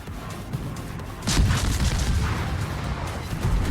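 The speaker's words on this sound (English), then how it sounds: "let's take some shots at the Heinrich" Naval guns firing at an enemy ship in a World of Warships style warship game, a heavy salvo bursting out after a quiet stretch, followed by sustained rumbling booms and crackle, no talk.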